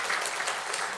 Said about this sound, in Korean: 감사한 마음 가지고 하나님께 영광의 박수 한번 올려드리겠습니다